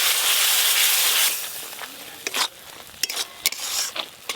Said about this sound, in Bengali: এই মশলাটা এখন একটু ভালো করে কষে নেব